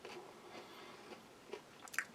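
Crunchy chocolate protein bar with crispies from a Norwegian Arctic field ration being chewed close up, a run of soft crisp bites and crunches that sharpen toward the end.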